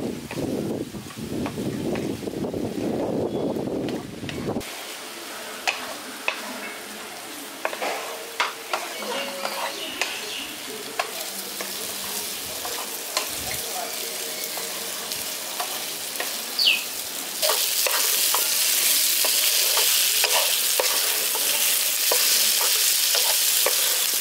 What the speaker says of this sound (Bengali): এবার ভেজে রাখা আলু আর কুমড়োটা দিয়ে দিচ্ছি। ভালো করে মিশিয়ে দিচ্ছি।